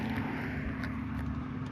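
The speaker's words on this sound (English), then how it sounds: "It's easier for cars to sneak up on you, especially when they're going really freaking fast like that one was." A fast car on a road rushes by with a steady, loud broadband roar and low engine hum, close to the listener and with no talk over it.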